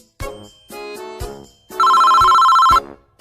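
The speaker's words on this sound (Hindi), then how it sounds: "अरे जज साहब ये आपका ही फोन बज रहा है।" A mobile phone ringtone going off in a courtroom, a loud, close electronic melody of repeating tonal phrases ending in a steady sustained beep, with no talk.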